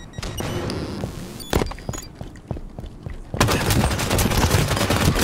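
Rapid gunfire in a Halo 5 multiplayer match: bursts of shots crackle through the first half, with a short pause, then heavier, denser firing takes over near the end and carries on steadily.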